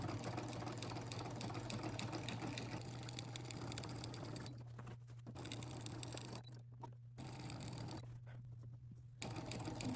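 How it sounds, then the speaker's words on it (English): A sewing machine stitching quilt binding fabric, a steady fast mechanical whir and patter running close and continuous, pausing briefly a few times before resuming. "sometimes going around the corner, I might just take a couple of stitches, just make sure that my fabric is feeding through"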